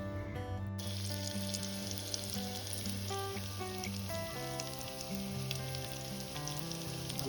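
Potatoes lightly frying in a pan sizzle softly in the background, faint and steady beneath a bed of music.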